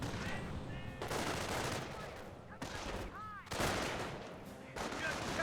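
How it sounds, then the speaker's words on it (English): Battlefield gunfire in the strategy game Company of Heroes, with dense overlapping rifle and machine-gun bursts in sustained volleys that pause briefly between waves, loud throughout. "We're taking fire here!"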